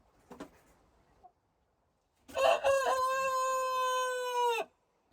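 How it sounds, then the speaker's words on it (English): A young rooster crows once, loud and close, with a rising harsh start that settles into a long sustained call before cutting off, after a short earlier cluck-like sound. "this is the first time that he's crowing"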